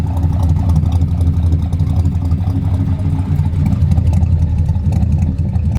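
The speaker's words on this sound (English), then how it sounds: "Check out that rumbling V8 sound." A deep, steady Chevrolet El Camino 350 V8 engine rumble idles close by, low and throaty with slight swells in loudness throughout.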